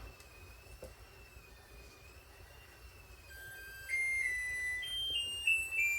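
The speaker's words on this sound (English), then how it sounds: "that's our timer for our tomato sauce" Kitchen timer sounding while tomato sauce is being prepared for canning: steady high electronic tones that step up in pitch and get louder over the last few seconds, with faint kitchen background and no talk.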